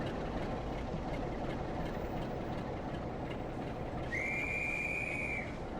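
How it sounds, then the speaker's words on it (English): In a train simulator game, a guard's whistle sounds on a platform on a Blackpool branch route with a BR Class 142 Pacer: one shrill, steady blast of about a second and a half comes late, over a low rumble of station and engine ambience. "Oh, guard whistle."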